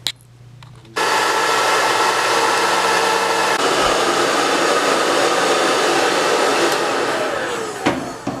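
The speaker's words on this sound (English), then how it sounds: "once you're done drying out your bearings completely, you can put your blow dryer away" A handheld blow dryer runs loud and steady for several seconds, drying cleaned skateboard bearings, then cuts out near the end.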